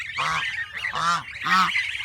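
Ducklings on a farm pond, one recovering from paralysis after medicine, give three evenly spaced, loud, nasal honking calls close by, with no talking.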